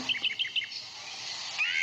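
A sparrow chirps in a cartoon: a quick run of four bright, high tweets followed by a longer thin trill near the end, light and close with no voice over it.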